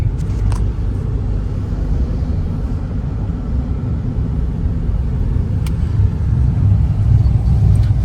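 A car climbing a winding ghat road up a mountain pass in Wayanad, engine rumble steady and close throughout with no talk, occasional faint clicks over the low drone.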